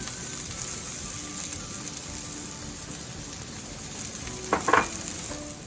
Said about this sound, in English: I'm gonna add my garlic now.